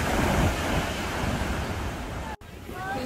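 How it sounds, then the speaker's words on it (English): Big ocean waves break at Laguna Beach, California, a loud continuous roar of surf mixed with wind buffeting the microphone, briefly cutting out for an instant near the end. "And there is big waves."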